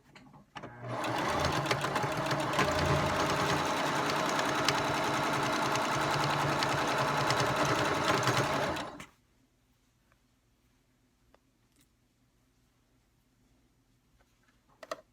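A sewing machine stitching closed catnip pillows runs loud and close in one steady whirring burst for about eight seconds, then stops, leaving near silence with a few faint clicks.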